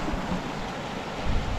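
Rushing Colorado river water roars as a dense, steady broadband wash, close and loud with no voices.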